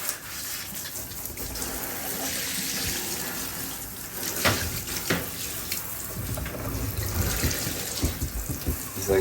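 A tap runs steadily into a tortoise soaking tub as it is rinsed out, a continuous close splashing gush of water with small surges and no talk.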